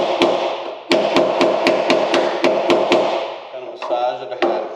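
A wooden hammer handle raps a sheet-metal automotive floor pan, about a dozen sharp, ringing taps in a steady rhythm, loud and close in a garage.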